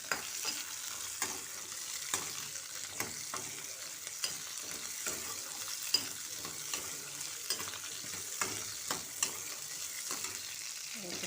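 Ingredients for a stingray fish curry sauté in a pan with a faint, continuous sizzle, punctuated by regular soft spoon scrapes and taps as they are stirred, fairly quiet and without talk.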